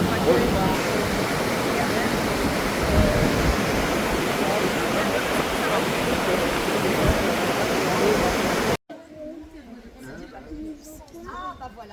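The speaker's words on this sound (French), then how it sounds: "Là, ça commence à l'eau qui coule." Water rushing steadily along the Doubs river during a boat trip, a broad continuous roar like a weir or small fall, close and loud with voices faintly mixed in, then cutting abruptly to a quieter scene with talk.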